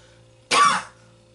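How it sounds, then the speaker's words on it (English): A single short, harsh COVID cough bursts out against a quiet background, lasting under half a second. "Still have the COVID cough."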